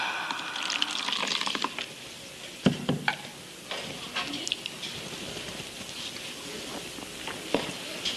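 Water poured into a glass during a poetry reading, a close trickling and splashing run with a few brief clinks, and no talk over it.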